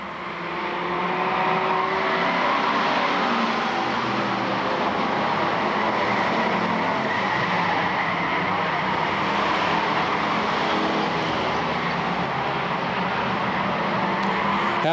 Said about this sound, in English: Captain Nemo Eric Johnson and Scott Griffin, now your lead 5 cars as John Weiner goes into the infield.